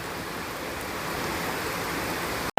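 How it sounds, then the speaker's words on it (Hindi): Steady, dense hiss of heavy rain pouring without a break, loud and close, cut off abruptly at the very end. "बहुत तेज है बारिश, बहुत तेज।"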